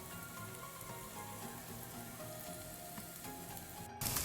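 Vegan tofu steak sears in a pan over high heat, giving a steady, dense sizzle with crackling pops throughout and a slight lift in loudness near the end, with no talking.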